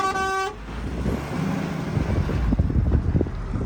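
A car pulls away from a roadside, opening with a short horn toot, then a low motor rumble fading off while heavy wind buffets the microphone and nearby traffic passes.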